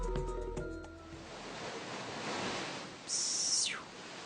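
Ocean surf on the Brazilian coast, a broad steady wash of waves rolling in close by, with a brief high whistling tone partway through.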